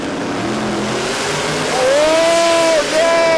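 A drag racing car at Willowbank on Kenda radial tires revs on and off the throttle, its engine note climbing and dipping loudly, with a commentator talking over it.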